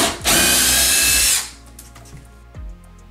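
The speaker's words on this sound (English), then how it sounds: "about 1/4 inch up from the bottom of the cabinet, you need to drill a pilot hole." A power drill whines loudly for about a second as it bores a pilot hole near the bottom of an Ikea kitchen cabinet, then stops, followed by a few light knocks and clatters.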